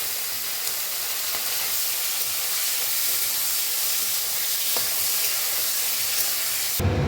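Chopped potato, radish and carrot hit hot oil in a pan for a spinach and prawn dish, producing a loud, continuous close hiss of sizzling that holds evenly for several seconds before cutting off.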